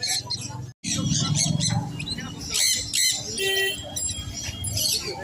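Budgerigars at a busy Sunday bird market chatter and squawk in dense overlapping calls, with a voice talking nearby.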